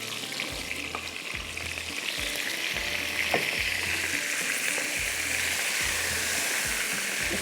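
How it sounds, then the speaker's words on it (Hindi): Eggplant pieces fry in hot oil with a steady, dense sizzle and crackle, close and continuous, joined by faint low periodic knocks, no voices. "इसके अंदर बैंगन डाल के आपने इसको फ्राई करना है।"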